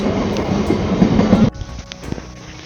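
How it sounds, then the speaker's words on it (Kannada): A moving train near Tumkur railway station rumbles and clatters loudly up close, then the noise drops abruptly to a quieter, steady rolling rumble. "ನಮ್ಮದು ಟ್ರೈನ್ ಹೋಗ್ತಾ ಉಂಟು"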